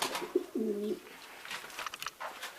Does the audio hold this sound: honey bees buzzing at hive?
no